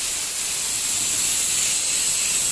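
A continuous, close hiss of compressed air from an air compressor spray gun at full flow, steady and even throughout with no talking.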